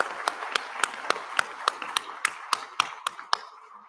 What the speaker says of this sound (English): Give a big round of applause for RRR and Elephant Whispers.